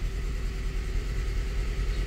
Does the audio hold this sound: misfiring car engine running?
yes